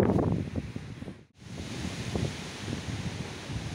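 Strong wind on a hilltop near a lookout tower in the Beskydy mountains buffets the microphone in a steady, rumbling roar with gusty low-end surges, briefly dropping out before blowing hard again.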